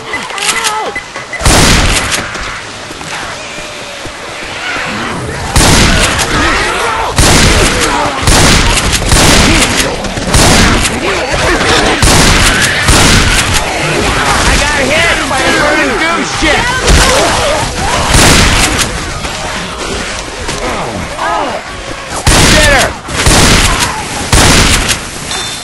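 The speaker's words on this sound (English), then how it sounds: "pipe bomb!" Pipe bomb blast and chaotic gunfire in the zombie shooter Left 4 Dead 2, repeated loud booms and shots over dense game noise, with people talking throughout.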